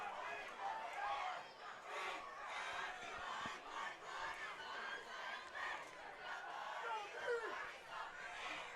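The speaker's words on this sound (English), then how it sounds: "Sounds like the Spirit crowd's getting a little excited over here." A high school football game crowd roars and shouts in the stands, a faint, distant swell of excited voices and chants rising and falling in waves.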